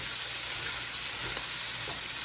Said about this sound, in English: let me stir this around first. Let it wilt.